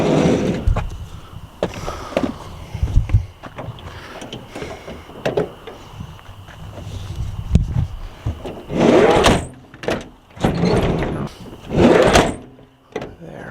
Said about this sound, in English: The front doors both work with the power door locks